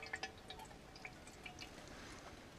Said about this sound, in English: dripping out quite nicely.